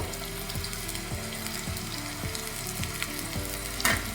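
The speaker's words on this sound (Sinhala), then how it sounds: "දැන් අපි බටු ටික බෙදගමු" Eggplant deep-fries in plenty of hot oil with a constant bubbling sizzle, punctuated by regular soft knocks roughly every half second.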